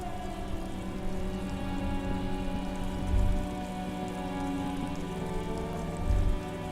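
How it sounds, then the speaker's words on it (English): Steady rain falls over the great city of Revachol in the video game Disco Elysium, a continuous soft hiss of drops with faint low thumps twice underneath. "All around you, rain falls on the great city of Revachol. Rain drips from the eaves and floods the gutters"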